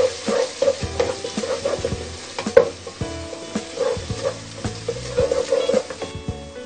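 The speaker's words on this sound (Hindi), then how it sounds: "लहसुन और अदरक का पेस्ट डालेंगे। एक मिनट हम इसको फ्राई करेंगे।" Garlic and ginger paste frying in a pan for chicken curry, a soft sizzle under repeated scraping stir strokes and clinks, close and moderately loud without talk.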